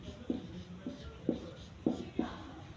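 Chalk or marker writing on a board in a classroom, with a handful of faint, short scratchy strokes spaced irregularly across a few seconds in a quiet room.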